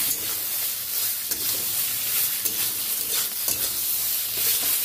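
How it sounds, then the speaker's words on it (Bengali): Vegetable curry stirred in a pan while it fries, made from potato, ridge gourd and pointed gourd peels for a vegetarian chaap, giving a steady sizzle with repeated scraping strokes close up. "একটু দিয়ে দিলাম, নাড়তে হবে, না নাড়লে খাড়াটা ধরে যাবে।"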